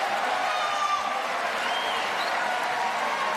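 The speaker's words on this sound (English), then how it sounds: "brilliant to hear the predominantly French crowd getting behind their athletes" A predominantly French crowd at a Paralympic goalball match in Paris cheers and applauds steadily throughout, a dense, continuous roar of voices with scattered claps, loud and even with no clear pauses.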